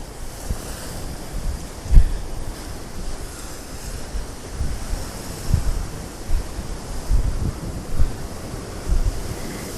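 Surf rolls in steadily at Bingin Beach in Bali, with waves breaking in repeated surges under constant wind buffeting the microphone, loud and close with no voices.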